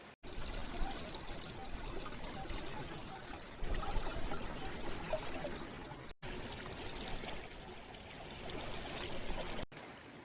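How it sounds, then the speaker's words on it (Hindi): Water pouring and rushing steadily at Phurli Jharan waterfall, a continuous broadband wash close by with no talk, briefly cut twice. "थोड़ा कहाँ से पानी आ रहे हैं देखते हैं।"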